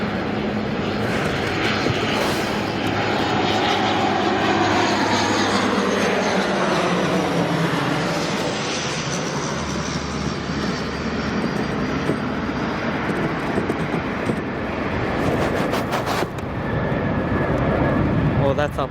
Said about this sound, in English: A330 takeoff.